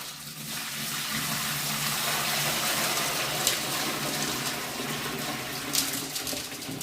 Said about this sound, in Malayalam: നമുക്കിനി വെള്ളം ഒഴിക്കാം